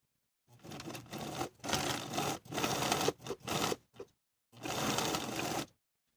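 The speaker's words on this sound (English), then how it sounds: "Edge stitching right along the sewn edge of the welt on the bodice side" A sewing machine edge stitches along the sewn edge of a welt on the bodice side of a lined woman's coat, running in several close bursts of steady whirring separated by short pauses, with no talking.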